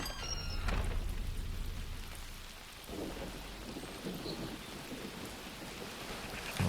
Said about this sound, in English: A little bit of a storm going on.